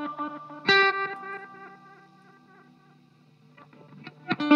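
Electric guitar run through a budget pedal rig with modulated reverse reverb and reverse delay, a loud chord swelling and washing into a shimmering, wobbling tail that fades before another strike rises at the end.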